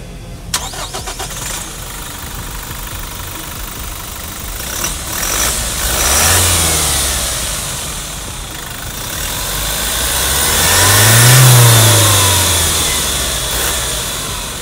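A Toyota Kijang Innova Venturer 2020 facelift diesel engine cranks and starts, settles into a loud idle, then revs up twice in slow, rising swells before easing back down.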